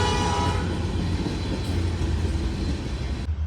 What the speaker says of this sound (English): now that the train has rudely interrupted